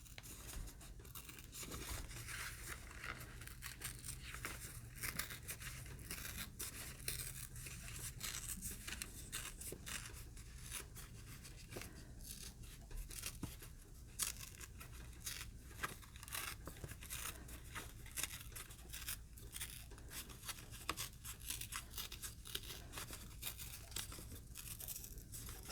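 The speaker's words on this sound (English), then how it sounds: "I'm tearing this specifically so that the paper core shows" Paper torn by hand to expose its fibrous core, a quiet, continuous run of small rips and crinkles lasting throughout, close and faint with no voices.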